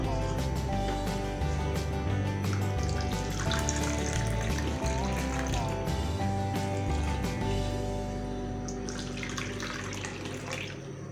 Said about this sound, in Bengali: আর এখানে আমি পানি অ্যাড করে দেবো।